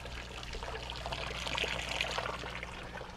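Waste water trickles and drains through a floor and down under a coastal building, a soft continuous dribbling stream over a low background rumble, with no talk.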